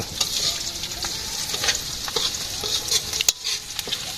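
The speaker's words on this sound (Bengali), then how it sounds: "আজকে মাংস রান্না করতেছে" Chicken meat fries in a pan at a village home kitchen, a continuous close sizzle with repeated stirring scrapes and clinks, no voices.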